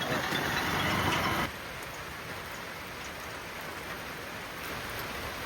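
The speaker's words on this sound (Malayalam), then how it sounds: "മഴയാണ്" Steady rain falling at the top of a dam reservoir in a green, misty hill area, a constant dense hiss that is louder in the first second and a half, then continues evenly with no voices.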